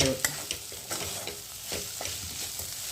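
Okra stir-fried in a kadhai, a soft continuous sizzle broken by repeated light scrapes and presses of a spatula against the pan, close and fairly quiet.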